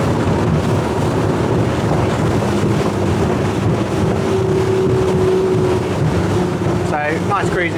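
A Jeanneau Merry Fisher 1095 Fly flybridge motorboat throttles back from top speed: a loud, constant engine drone and rushing water under heavy wind buffeting on the microphone.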